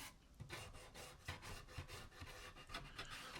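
Pine wood being hand-sanded nearby: a steady series of rhythmic rasping back-and-forth strokes, roughly two per second, with no talk.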